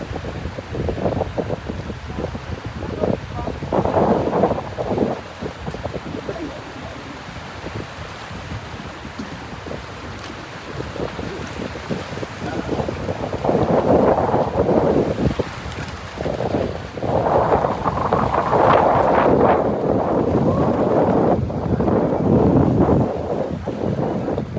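Strong wind buffets the microphone throughout a boat ride toward a hotel on Boracay, with steady roaring gusts that swell louder in the second half over the low hum of the boat and water.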